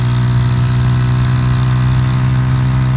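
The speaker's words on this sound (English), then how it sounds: "I am maxed out on this throttle." A motorcycle engine held at full throttle, a steady loud drone with a strong low hum and constant vibration, heard up close while riding at about 60 with no pauses or gear changes.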